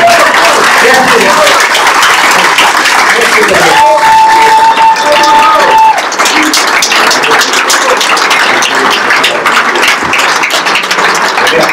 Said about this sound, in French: Vous pouvez l'applaudir encore bien fort